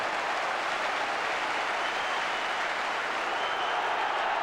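A football stadium crowd at a 1990/91 Chelsea match applauds in a broad, even roar of clapping, fairly distant and soft, sustained without a break.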